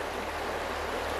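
The Virgin River flowing in Zion, a steady rushing wash of water that is close, even and unbroken, with no other sounds.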